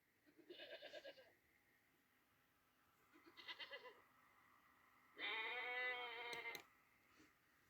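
Three bleats from a goat, each a short wavering cry, the last one longest and loudest, separated by quiet pauses; no talking.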